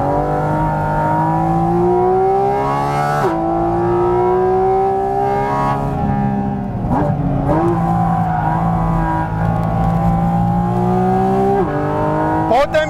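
A mid-engine sports car driven hard, its engine note steadily rising and dropping through gear changes, loud and close, with short tire squeals between.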